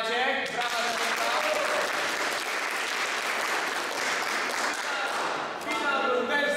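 An audience at a table tennis tournament applauds the third-place finisher, sustained even clapping from a crowd that fills nearly the whole stretch before fading, with a voice heard briefly at the start and end.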